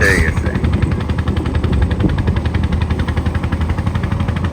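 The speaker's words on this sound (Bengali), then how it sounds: "সেই তো বলি যে ট্রলার এরকম সাউন্ড করে কেন" A loud, close trawler boat engine starting, hammering away in a fast, steady chugging rhythm, unbroken for several seconds.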